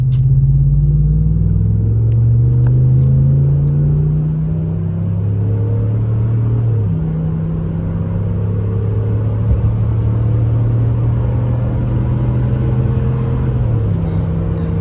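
Ram 1500 pickup truck driving in winter, a steady engine rumble with shifting gear tones and smooth acceleration, heard from inside the cab with no talking.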